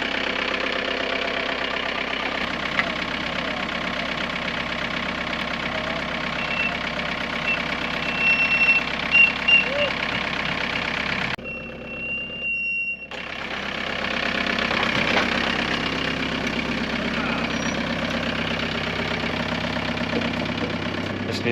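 A turbo diesel Volkswagen Vanagon Westfalia engine idles steadily with a low, knocking rumble while warming up in winter, continuous throughout, briefly dipping and quieting for a moment before resuming.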